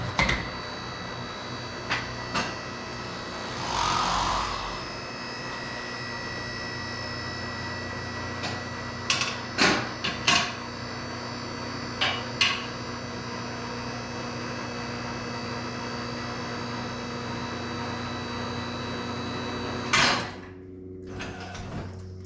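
A QuickJack hydraulic lift raises a 1974 Corvette 454 in a garage, giving a steady mechanical hum throughout with a few sharp clicks and clanks near the middle and a louder clunk near the end before it goes quiet; no one talks.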